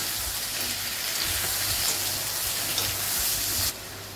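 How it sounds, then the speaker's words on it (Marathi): Tomatoes and onions sauté in a pan over high heat, a dense continuous sizzle with low rumbling and stirring under it, close and fairly loud, cutting off sharply near the end. "त्यामध्ये आपले ही टमाटे टाकून घेऊ आणि परतून घेऊया"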